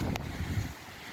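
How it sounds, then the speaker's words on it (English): Wind gusts outdoors on a cold, windy day by an open field, a steady low rumble buffeting the microphone for about a second with no talk. "It's so windy."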